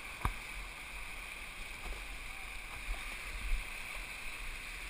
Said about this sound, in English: looks like we're heading into some good whitewater up here